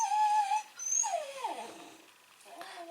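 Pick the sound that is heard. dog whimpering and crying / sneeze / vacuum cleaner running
dog whimpering and crying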